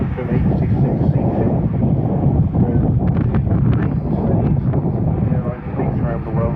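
Loud, steady roar of an EasyJet Airbus jet at Manchester Airport, a broad continuous engine rumble with wind buffeting the microphone and faint talk underneath.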